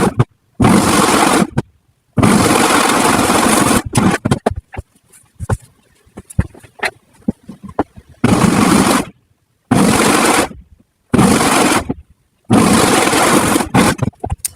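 A sewing machine stitches quilt strips together in loud, close bursts of rapid needle chatter lasting one to two seconds each, separated by short silences and a quieter stretch of fabric handling.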